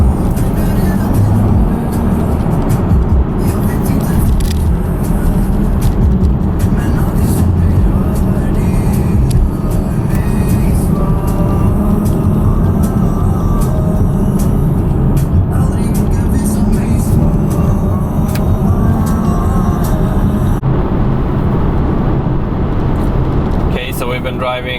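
A Polestar 2 electric car cruises on a long-distance drive with constant road and tyre noise and a steady whir from inside the cabin. Occasional voices are heard faintly under the drone.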